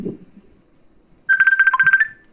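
A mobile phone ringing with an incoming Messenger call, a loud, close, rapidly pulsing electronic ringtone that starts abruptly after a brief stretch of quiet voice.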